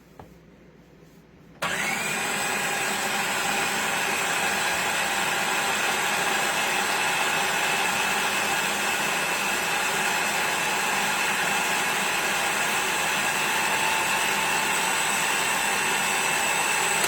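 Food processor blending dandelion green pesto, motor kicking on abruptly after a short quiet start and whirring in a steady, loud, unbroken drone to the end.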